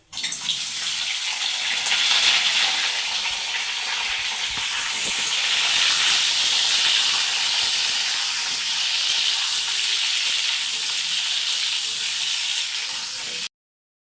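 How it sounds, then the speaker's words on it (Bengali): Steady, loud hissing sizzle of boiled potatoes frying in a pan, continuous and unbroken for most of the stretch before cutting off abruptly. "এবার আমি সেদ্ধ আলুটা দিয়ে দেবো দিয়ে একটু ভালো করে ভেজে নেবো"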